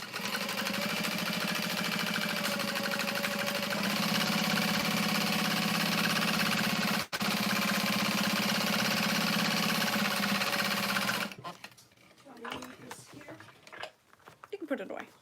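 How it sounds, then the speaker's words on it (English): Steady, fast mechanical whirr of a sewing machine stitching around the edges of foam basted to fabric, running continuously and fairly loud for about eleven seconds before stopping, with a voice and handling noises after. "I'm just going to sew around all the edges."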